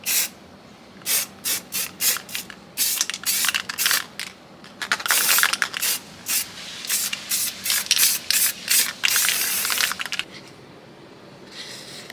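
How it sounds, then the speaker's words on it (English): An aerosol can sprays in a series of short hissing bursts, some longer, with brief pauses between them, close and loud. "You want to make sure the spray comes out evenly."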